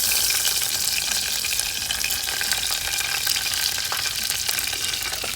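Dried whole red chilies and curry leaves fry with mustard seeds in hot oil in a clay pot, a dense continuous sizzle and crackle, close and steady with no talking.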